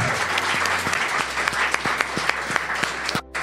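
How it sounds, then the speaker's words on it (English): Audience applause at a forum on caste in India: dense, sustained clapping from a crowd, steady and fairly close, with no talk over it, cutting off abruptly near the end. "And give a round of applause."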